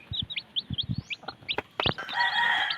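Short clucks from a hen, several soft bursts in an irregular rhythm, with higher chirps of chicks scattered over them, close by and fairly clear.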